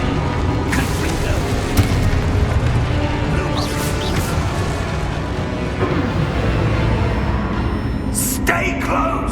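A Confringo fire spell detonates in Hogwarts Legacy, a boom standing out from a dense layer of in-game music and ambience, with sharper bursts crackling near the end.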